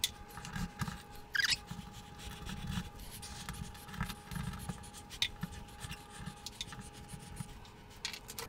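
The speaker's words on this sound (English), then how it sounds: "now I need a drywall saw to cut out the hole" A handheld drywall saw cuts a hole in a wall with a series of short, rasping strokes, close and fairly quiet, in an otherwise still room.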